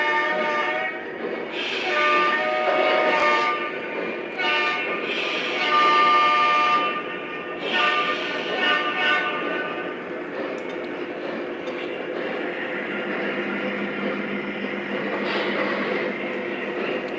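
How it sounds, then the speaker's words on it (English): A Lionel model coal train rumbles steadily along the track with a sustained horn-like tone early on, continuing as a constant mechanical hum while a voice speaks intermittently. "we got our coal train moving along here"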